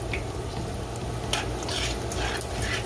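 Steady crackling sizzle of oxtail frying in a hot pot, with occasional louder bursts of spatter and stirring, close and continuous.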